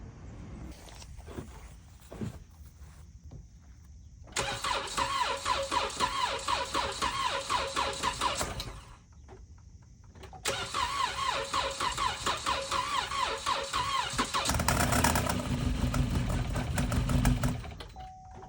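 A car engine cranking but not starting, two long bursts of rapid whirring starter motor grinding, each several seconds long, loud and close with a brief pause between, after some faint clicks.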